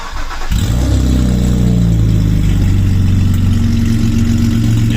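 A BMW 525 E61 straight-six with its muffler removed starts up and runs loud and close, settling into a deep, raw, continuous drone for the rest of the clip.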